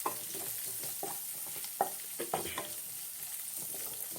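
Chicken frying in a pan with chilli, turmeric and coriander powder being stirred in, soft sizzling under repeated scraping and clacking stirs, close and fairly quiet, no talk.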